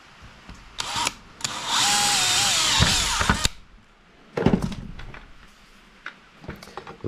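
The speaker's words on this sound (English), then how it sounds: "So now I'm gonna drill this hole right there out" A power drill fitted with a 1/4 inch bit bores a hole for a homemade quick coupler attachment, with a loud, sustained whirring run framed by short bursts and clicks of the tool starting and stopping.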